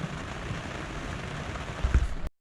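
Rain drums on a sailing boat beating upwind at sea in the Indian Ocean, a steady close hiss of drops with a few heavier low thumps near the end before it cuts off abruptly.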